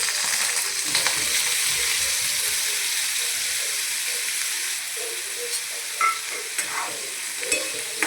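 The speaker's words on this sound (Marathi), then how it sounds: "ते बटाटे पहिले थोडेसे फ्राय करून घ्यायचे" Thin potato slices fry in hot oil for a bombil potato rassa bhaji, giving a loud, continuous sizzle. Occasional stirring clinks and pops break through near the end.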